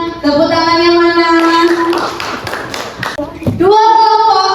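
A classroom of students claps for a student group, a burst of rhythmic clapping framed by the children's chanted, sing-song voices before and after.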